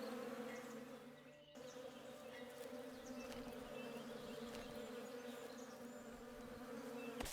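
Bees swarming around a hive in the survival video game Above Snakes, a continuous dense buzzing drone, steady and fairly loud with no voices.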